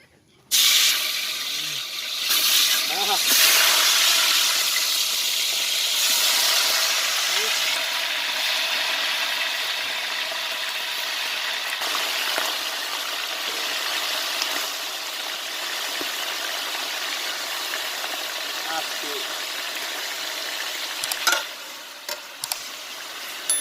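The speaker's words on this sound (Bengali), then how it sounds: "এখন আমরা মাংসগুলো ভেজে নিব।" Chicken pieces frying in oil in a pan, village-style roast chicken fry, giving a steady broad sizzle with stirring scrapes throughout, loud and continuous; a voice talks over it at times.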